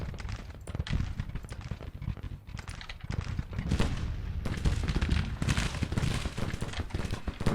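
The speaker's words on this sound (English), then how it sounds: "Cannons." Cannons fire across a Civil War battlefield in the strategy game Grand Tactician, a run of overlapping booms and crackling volleys at moderate distance, growing denser and louder in the second half without talking.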